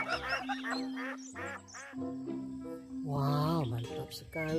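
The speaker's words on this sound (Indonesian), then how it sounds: "Ini hewan angsa." A toy goose gives a run of nasal honking calls interleaved with a steady electronic tone, loud and close, with no talking over it.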